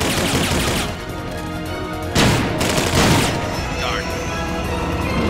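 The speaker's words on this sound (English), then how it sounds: "He's gonna shoot his gun next." Enemy gunfire in the video game Metal Gear Solid Peace Walker, loud close bursts of shots and impacts with a heavy blast in the middle, under someone talking over the game.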